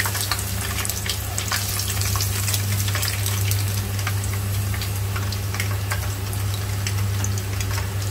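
Onion and minced meat toast deep-frying in hot oil, a loud, steady sizzle full of rapid crackling pops over a low continuous hum, with no voices.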